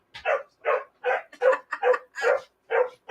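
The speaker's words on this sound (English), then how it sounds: "The dogs are running back and forth." Dogs bark in a quick, irregular series of about nine sharp barks, close and loud, while they run back and forth indoors.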